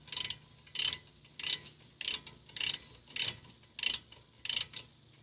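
Ratchet wrench tightening a front brake caliper bolt on a Mazda5 during a brake pad replacement: eight evenly spaced bursts of crisp clicking, close and fairly loud, with no talking.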